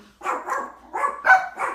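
Several dogs bark indoors in a home, a few short yipping bursts in quick succession, fairly close and moderately loud with no talk over them.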